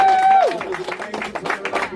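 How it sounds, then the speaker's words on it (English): Audience applause at a networking event, a crowd clapping in a steady patter that follows a voice's sustained, falling tone at the start. "One more time, give us a round of applause for Joe for reaching"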